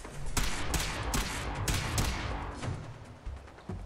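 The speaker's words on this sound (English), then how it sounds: "What are you shooting at?" Rapid bursts of gunfire in the Fallout 4 game on PC, a loud fusillade of repeated sharp shots with thuds, near and continuous, with a little talk underneath.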